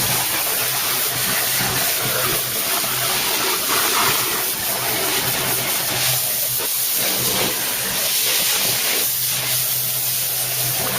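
A geyser steam cleaner sprays into a car engine bay during a strip-and-clean, giving a loud, continuous hiss with roaring spray that swells and eases in pulses over about eleven seconds, close by, with no talking.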